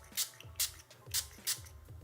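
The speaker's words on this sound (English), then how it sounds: "I'm gonna go in with the Lila B, a Glow Face Mist. I'm gonna spray it just on the cheeks." Short hissing bursts of a Lila B Glow Face Mist setting spray misted onto the cheeks, four quick close sprays in an uneven rhythm with quiet handling between them.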